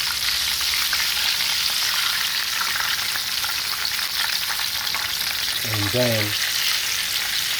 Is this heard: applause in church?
no